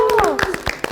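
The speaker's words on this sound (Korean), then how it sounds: "이분들이 또 박수를 쳐주셨네요." Guest musicians at a Korean backing-track player showcase give a brief round of applause, about five quick claps over a sustained tone, all within a second.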